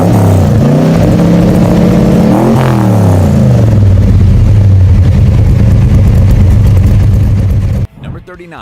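A deep, throaty muscle car V8 engine rumbles steadily, rising in a brief rev before settling into a low idle, loud and close, then cutting off near the end.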